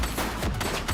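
Gunshots in the police video game The Precinct: a fast burst of several sharp, loud cracks close together, ringing over a busy low rumble.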